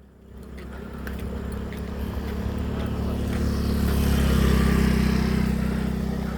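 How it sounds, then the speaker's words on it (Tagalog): A motor scooter passes on an uphill mountain-bike trail, its engine swelling from quiet to a steady loud drone that holds as it goes by, with wind noise over it. "Ah, may motor. Ay, scooter."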